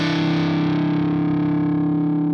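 A distorted electric guitar sounds a sustained E dominant seventh chord, root with flatted seventh. The single chord rings loud and close with a slight wavering effect, slowly decaying, with no talking.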